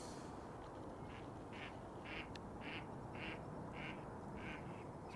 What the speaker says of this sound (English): ducks there.